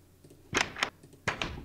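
A Minecraft door in the game, four short wooden clacks in two quick pairs, crisp and close against a quiet background.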